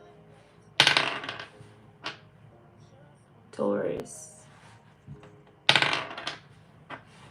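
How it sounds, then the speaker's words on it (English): Dice rolled in a hand and dropped onto a surface during a zodiac tarot-style reading, giving a few sharp clattering bursts spread across the clip, with a person speaking between them. "That dice loud. That's why I keep doing it like this in my hand."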